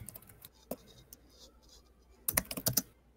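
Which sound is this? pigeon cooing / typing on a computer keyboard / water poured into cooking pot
typing on a computer keyboard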